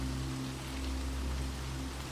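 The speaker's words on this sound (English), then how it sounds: "You peer out the windows as rain cascades down the dozens of panes." Rain falling on many window panes on a stormy night, a steady soft hiss of drops with a low hum beneath, continuous and even.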